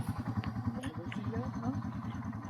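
A Yamaha TW200 motorcycle engine putters at a rapid, even beat on a trail, idling nearby at moderate loudness with faint clatter on top.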